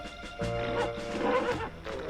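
A horse gives a loud, close whinny that rises and wavers for over a second, then tapers off, with light background noise around it.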